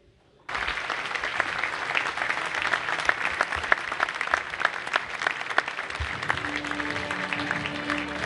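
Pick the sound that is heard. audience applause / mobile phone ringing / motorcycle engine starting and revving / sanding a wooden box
audience applause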